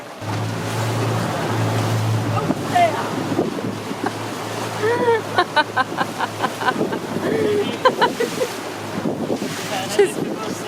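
Boat moving across the sea on a sunny coastal trip in the south of France, with steady wind and waves rushing against the hull throughout, while people talk and birds chirp over it.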